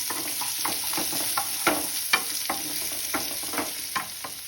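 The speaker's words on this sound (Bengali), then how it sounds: "পেঁয়াজটা ভাজা ভাজা হচ্ছে" Onions frying in a pan while making boal fish curry, a close steady sizzle punctuated by sharp scraping clicks of stirring at an irregular rhythm, no voices.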